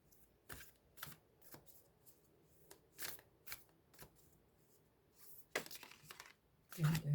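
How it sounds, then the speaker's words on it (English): Cards being shuffled up close in repeated quick riffling bursts separated by short pauses, fairly quiet, with a voice briefly heard at the end. "whilst shuffling"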